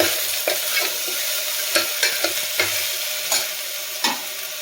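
Chopped kohlrabi stirred into sautéed onions in a pan: steady frying sizzle with repeated scraping spoon strokes at an uneven rhythm, close and without voices.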